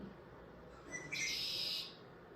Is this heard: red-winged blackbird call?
yes